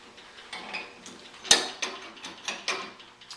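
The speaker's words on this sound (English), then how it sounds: "run your notcher in." A JD2 Notch Master tubing notcher cutting into metal tube, giving a series of ratcheting mechanical clicks and grinding bursts at an uneven rhythm, close and moderately loud, one sharper crack in the middle.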